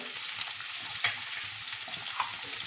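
Mixed vegetables (cauliflower, capsicum, peas, beans, cabbage, carrot) sautéing in oil over a low gas flame, a steady soft sizzle with occasional light stirring taps, close and with no speech.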